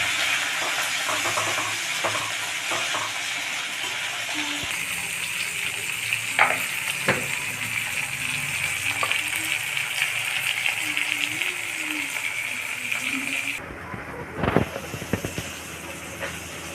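Steady frying sizzle with occasional stirring scrapes and clinks in a pan of Bengali fish curry with tomato and salt, the hiss continuous and close, with someone talking over it at times.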